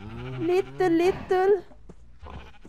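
Sheep in the Minecraft video game bleating three times in quick succession, close and clear, with a brief spoken word at the end.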